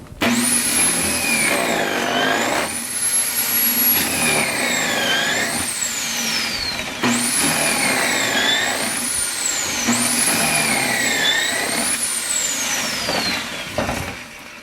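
A Kreg Foreman pocket hole machine drills pocket holes, its motor whining loudly with rising and falling pitch as each bit plunges and retracts, several cycles in quick succession under a constant mechanical drone.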